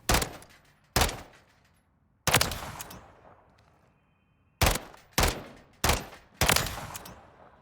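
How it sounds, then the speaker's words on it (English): SVA rifle fired in the firing range of Call of Duty MW3: loud, close single shots in irregular bursts, two spaced reports, then a pause, then four quicker shots, each with a short decaying tail. "let's go ahead and see with the same SVA class in the firing range if those 4 shots should have killed him"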